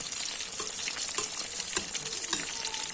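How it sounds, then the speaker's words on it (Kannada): Rava-coated bangda (mackerel) fish frying in a pan, a dense, close sizzle with frequent small crackles and pops scattered across a steady bubbling hiss. "ಫಸ್ಟ್ ಕ್ಲಾಸ್ ಆಗಿ ಫ್ರೈ ಆಗ್ತಾ ಇದೆ ಮೀನು."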